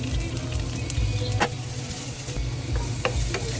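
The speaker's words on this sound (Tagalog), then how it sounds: "Igisa na ang sibuyas." Onions sauté in hot oil in a wok for Ilonggo adobong tawkay, a loud, close sizzle broken by repeated scraping stirs and light clinks of a spatula, with no speech.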